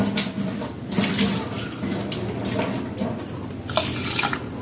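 Water is poured into a bowl for jalebi sugar syrup, a close, continuous splashing stream that swells and eases in a few pulses.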